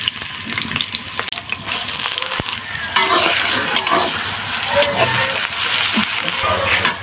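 Chopped onions hit hot oil in a pan with turmeric, chili, cumin and ginger-garlic paste for a spicy country chicken curry, bursting into a loud, steady sizzle with stirring scrapes close by.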